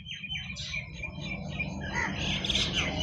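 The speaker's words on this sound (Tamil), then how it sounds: "என்னை சுற்றி நிறைய பறவைகளோட குரல் நீங்கள் கேட்பீங்க" Many birds chirp and call around a village in Tamil Nadu, a dense mix of overlapping tweets and whistles close by, with a steady low background hum and no talk.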